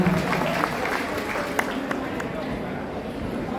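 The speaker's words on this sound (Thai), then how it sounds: "ขอเสียงปรบมือเพื่อเป็นการต้อนรับคุณครูอัญชลีอังกุลแะพาคา" An audience claps to welcome a teacher at a retirement ceremony held at a Thai kindergarten. The applause is a dense, continuous wash under a voice speaking over it.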